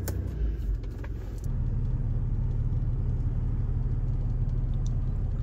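A car engine idling to warm up after sitting unused for a day or two on a foggy morning, a steady low rumble close by after a brief shift at the start.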